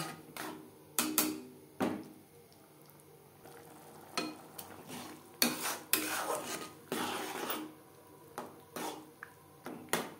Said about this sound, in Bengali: মশলার সাথে লবণ হলুদ বেশ ভালো করে মিক্স করে দেব।